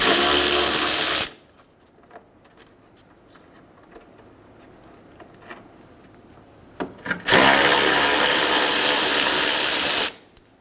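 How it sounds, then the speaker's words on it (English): Power tool whirring loudly for about a second, then working again for roughly three seconds after a pause with faint handling clatter, while removing 10mm bolts from the upper grille of a 2000-2007 Ford Focus. "remove the 10mm bolts on top"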